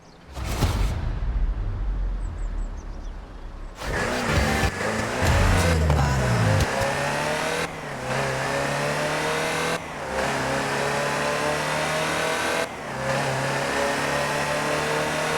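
A Land Rover Series III utility truck's engine in Forza Horizon 4 starts up and revs loudly, then drives on with a steady mid-pitched drone broken by several distinct gear shifts.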